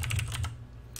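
Keys tapped on a computer keyboard to type a short command and press enter, a quick cluster of close clicks followed by one more tap after a short pause, with no talking.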